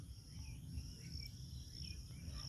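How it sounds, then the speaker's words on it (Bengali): Crickets chirp continuously at dusk in a village, a faint, steady high-pitched trill that holds unbroken throughout, with a soft low background hum and no talking. "অবিরাম ঝিঁঝি পোকা ডেকে চলেছে।"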